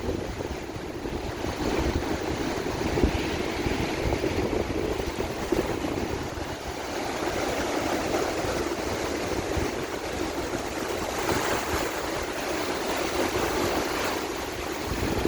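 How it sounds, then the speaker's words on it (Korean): Sea waves rolling in at Guryongpo harbour, a continuous broad surf roar with gusting wind across the microphone, swelling slightly near the end, with no voices. "파도가 너무 멋지게 밀려오네요."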